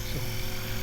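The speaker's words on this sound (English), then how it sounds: "the helicopter behind me is 25, 30 feet away from me. It's much noisier than the drone" A helicopter flies nearby, about 25 to 30 feet away, giving a loud, steady, dense rotor and engine roar that fills the whole short moment.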